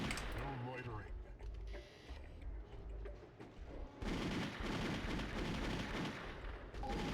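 Gunfire in the video game RoboCop (2003) during a gondola ride: bursts of shots crackle and boom, dense and loud in the second half, with a voice talking earlier.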